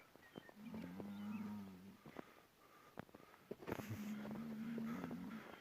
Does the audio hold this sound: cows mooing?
yes